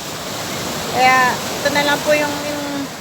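Rough sea waves at sunrise, a continuous broad wash of surf running under someone speaking close to the microphone, the water steady and fairly loud throughout.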